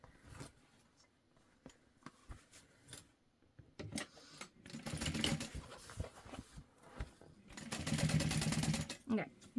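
A sewing machine top-stitches through the exterior fabric and seam allowance of a zippered beauty bag, running in two steady bursts of rapid needle chatter between quieter handling noises, with a person talking nearby.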